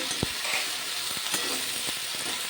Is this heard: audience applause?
no